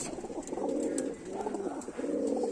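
Pigeons coo close by in a loft, a soft, repeated throaty purr in three rolling phrases, alone with no talk.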